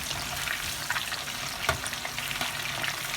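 Chicken pieces for chicken patakha frying in a pan after being flipped, a steady close sizzle and crackle with small pops and occasional stirring scrapes, no talking.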